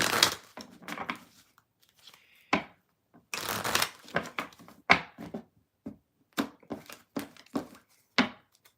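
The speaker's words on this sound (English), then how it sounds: "All right, final deck to shuffle." A tarot deck is shuffled in quick bursts of crisp riffling and slapping cards, close and clear, separated by short pauses of silence.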